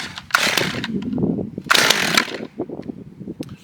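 A Holzfforma 35.2cc G111 chainsaw, compatible with the Stihl MS200T, takes two loud ratcheting pull-cord yanks with the choke on, followed by a string of sharp sputtering pops as the engine tries to fire.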